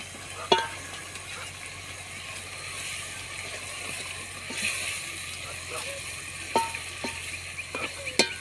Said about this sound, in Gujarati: મસ્ત દાળનો વઘાર થઈ રહ્યો છે।